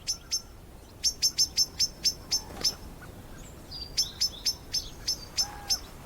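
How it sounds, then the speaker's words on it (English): Blackbird giving a sharp warning call in a German forest in winter, a series of rapid, high, clipped chirps repeated in bursts, clear and close against a quiet background. "the bullfinch is tipped off by a blackbird's warning cry"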